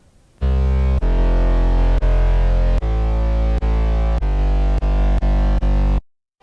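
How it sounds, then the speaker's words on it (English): A loud, distorted electronic dance music synth bass with a separate deep sub layer plays steady sustained notes, cut into a rhythmic series of hits before stopping abruptly. "I like to split the bass and the sub, so here's what I got for both those."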